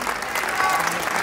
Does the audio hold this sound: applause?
yes